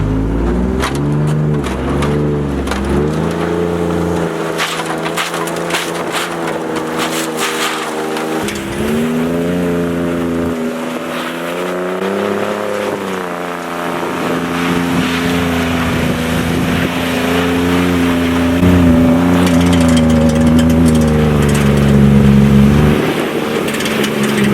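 A Ford Raptor truck does donuts in the snow, its engine revving again and again in rising and falling surges, loud and close, with wind buffeting the microphone.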